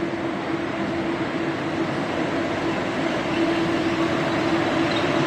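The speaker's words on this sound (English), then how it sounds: "Wow, very state-of-the-art looking train." A modern train rumbles in steadily and close, a dense continuous roar with a faint steady hum running through it and no voices.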